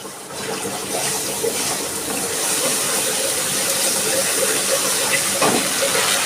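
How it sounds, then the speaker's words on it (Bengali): A little water poured into a hot pan of spiced fish curry, setting off a loud rushing hiss that builds and holds steady close up. "দিচ্ছি অল্প একটু জল।"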